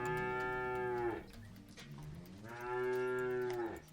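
Cattle in a pastoralist community in northwestern Kenya, two long loud moos close by, separated by a short pause, with no talking.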